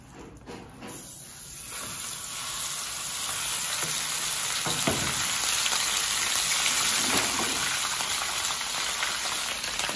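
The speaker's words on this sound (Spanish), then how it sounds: "Ya está caliente, vamos a freír todo el kilo de chorizo" A kilo of chorizo fries in hot oil in a pan, making a steady, loud, dense sizzle and hiss that holds for the whole stretch without any voices.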